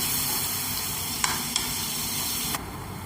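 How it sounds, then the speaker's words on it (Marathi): Tomatoes frying in hot oil for a tomato chutney give a steady, close sizzle, broken by a few sharp clicks of stirring before the hiss softens slightly near the end. "आता हे आपण तेलात परतूया। आता ह्याच्यात लगेच आपण हे टॅमॅटो घालूया,"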